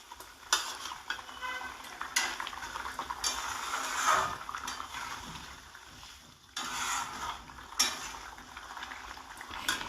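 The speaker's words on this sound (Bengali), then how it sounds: "সমস্ত মাছগুলো আমি একে একে ছেড়ে দিচ্ছি দই রুয়ের ঝোলে" Rohu fish pieces are slipped one by one into a yogurt curry, a moderate simmering sizzle with several sharp clatters of a utensil against the pot, no speech.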